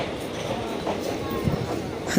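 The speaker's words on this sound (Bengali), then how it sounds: "আমাদের ট্রেন ঢুকলো বোলপুর শান্তিনিকেতন" A train pulls into Bolpur Shantiniketan station, its low rumble and faint rail clatter running steadily with a few soft knocks, while voices murmur in the background.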